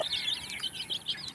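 Native Bisaya chickens and chicks cluck and chirp in a steady stream of short, high calls, fairly close, with no talking.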